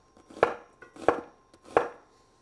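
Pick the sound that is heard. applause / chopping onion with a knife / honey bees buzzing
chopping onion with a knife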